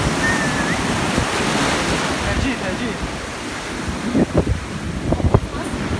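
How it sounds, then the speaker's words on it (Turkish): Ocean waves breaking at Karaburun beach in Arnavutköy, a constant loud surf roar with wind buffeting the microphone and a few voices speaking briefly near the end. "Çok dalga var."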